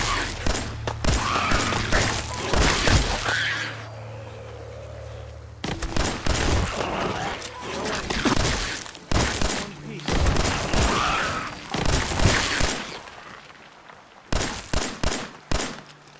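Gunfire from enemies strafing the player in the video game Fallout 4, with loud, dense bursts of shots and booming impacts coming in rapid volleys, broken by short pauses and a stretch of lower rumble.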